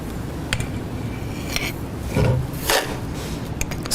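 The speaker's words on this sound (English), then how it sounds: "fill the shear box using the sand given" Sand poured and spread into a metal shear box to form a dense sand sample for a soil shear test, giving intermittent gritty rustling and scraping with a few sharper scuffs, close and fairly quiet.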